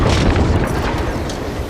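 Bangalore's ultimate in Apex Legends pounds nearby as a loud, continuous low booming rumble of overlapping explosions, with no distinct individual hits and no talk.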